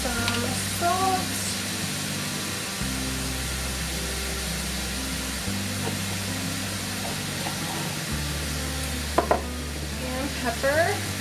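Food browning in a hot pan for a butternut squash lasagna, giving a steady close sizzle and hiss with occasional stirring scrapes, under a low appliance hum.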